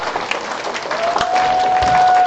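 An audience at a product presentation claps in a broad, steady wash of applause mixed with some crowd noise and a thin sustained tone, growing slightly fuller toward the end.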